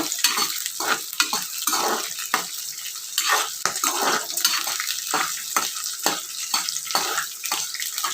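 Green chilies fry in a pan for peanut chutney, with a steady hiss of oil under a rhythmic series of scraping stirs from a spatula at close range and no talk.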